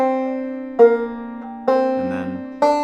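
Two-finger banjo picking measures seven and eight of Pretty Polly, four bright plucked notes spaced about a second apart and left to ring, close and clear with no talk.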